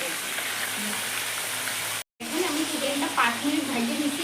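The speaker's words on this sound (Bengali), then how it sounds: "পাঁচ মিনিট মতো চিকেনটা একটু ভাজিয়ে নেবো" Chicken pieces fry in hot oil in a pan for a village-style curry, a loud continuous sizzle with a short break in the middle, followed by a few stirring scrapes.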